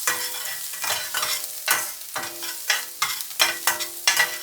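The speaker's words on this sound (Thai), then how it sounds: "น้ำมันร้อนแล้วก็สิใส่กระเทียมลงไป" Garlic stir-frying in hot oil in a pot, a loud close sizzle punctuated by about a dozen rhythmic scraping stirs of the spatula, with no voices.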